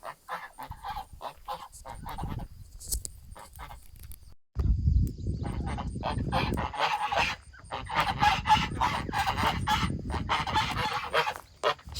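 Geese honking repeatedly at close range, loud harsh calls in bursts, with a quiet gap partway through before the honking resumes densely and keeps going to the end.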